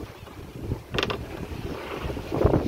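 Steady wind rushing past the microphone aboard a sailboat crossing the Pacific, with faint creaks and a brief rattle of rigging.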